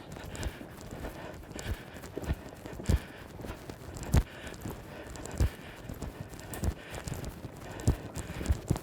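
A horse trotting in an arena, hooves clip-clopping in a steady two-beat rhythm with regular sharp thuds at moderate distance, no talking.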